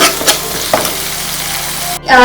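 Close, crackling sizzle of a curry-leaf seasoning frying in a pan with a few scraping stirs, fairly loud and continuous.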